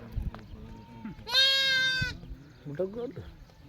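A sheep lets out one loud, drawn-out bleat, clear and close, amid background voices and farmyard noise.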